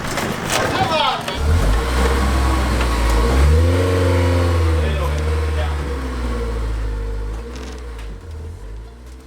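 A Honda S2000 engine idles and revs up, its pitch rising and falling in long sweeps, loud and close.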